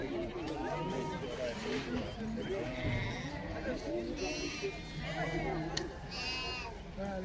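Sheep, including ewes with lambs, bleating at the Karabulak livestock market, several overlapping calls near and far amid background crowd chatter and market bustle.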